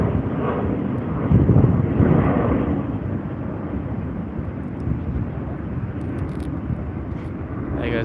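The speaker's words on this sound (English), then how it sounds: "There goes the Melbourne flight." The Melbourne flight, a fixed-wing airliner, rumbles past overhead as a broad, steady roar that swells early and then holds at a moderate distance.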